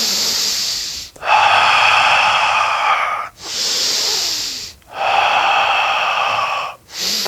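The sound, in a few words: deep exhaling breath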